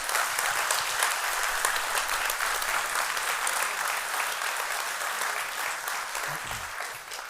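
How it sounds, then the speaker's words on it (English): Loud, steady applause from a lecture audience at the close of a talk, continuing evenly throughout and tapering off slightly at the end. "Please give Mr. Peeters one last round of applause"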